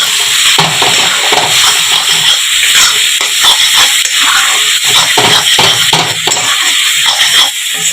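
Egg and mashed eggplant frying in a pan for begun bharta, stirred with steady scraping strokes over a loud, continuous sizzle, close up and with no voices.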